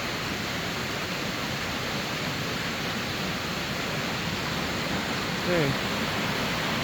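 An Icelandic waterfall roars as a constant, broad rushing wash of water, loud and unbroken, with a brief voice speaking near the end.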